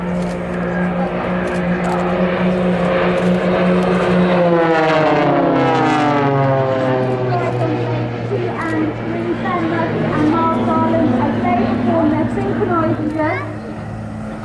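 Display team jets at an air show roar toward the listener at full speed, with the engine pitch sweeping down as they pass, under continuous commentary from a loudspeaker.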